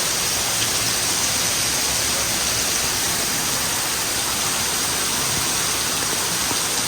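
Heavy monsoon rain, part of a downpour of about eight inches, falling outside as a dense, steady hiss of water that holds constant throughout with no pauses or voices.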